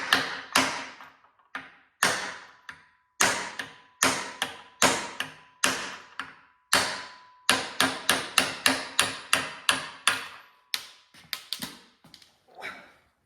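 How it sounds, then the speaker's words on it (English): A hammer strikes a metal punch on a bearing's inner race to drive out a 1979 Yamaha SRX wheel bearing, sharp loud close blows in uneven bursts with brief pauses, no voices. "So we take our punch, hammer, put it right on the inner race of the bearing."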